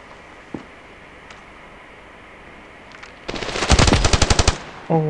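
Bursts of P90 submachine gun fire in the Standoff 2 shooter game, a rapid string of loud shots after a quiet stretch, ending with a short electronic game sound.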